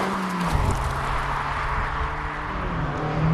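A 2024 Mazda MX-5 Grand Touring drives along with a steady engine hum and road noise, held at an even level throughout with no voices.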